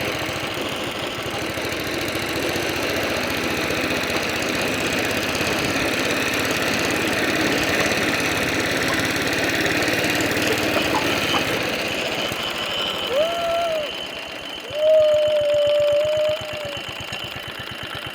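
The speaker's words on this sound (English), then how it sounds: "This mower cuts like butter." A vintage cylinder lawn mower engine runs steadily and loudly while cutting grass, a continuous close mechanical drone with a few brief tonal squeals near the end.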